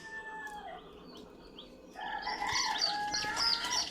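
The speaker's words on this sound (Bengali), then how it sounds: "আজকে আমাদের মুরগির বাচ্চা ফোটার তারিখ।" Newly hatched Egyptian Fayoumi chicks chirp in a close, continuous chorus of high, rapid peeps that starts faintly and grows much busier partway through.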